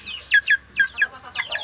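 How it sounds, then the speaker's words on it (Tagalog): Pet chickens clucking close by in a short burst of several quick, bright clucks arriving in three loose pairs, each sharp and clipped, with quiet gaps between them and no talking. "Yan ang aming alagang manok."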